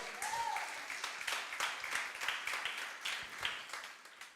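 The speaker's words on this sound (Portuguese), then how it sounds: "Você pode aplaudir o Senhor?" A church congregation claps during a sermon, a moderately loud, steady patter of many hands lasting the full stretch, with a brief voice-like tone near the start and no clear talk over it.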